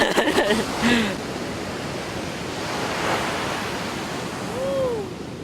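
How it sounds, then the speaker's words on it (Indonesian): Surf at Kuta Beach, Bali, during a high tide swell, a steady broad wash of breaking waves with a few louder surges, heard from nearby under wind without speech. "Ini aja agak khawatir ini lihat ombaknya kayak gitu"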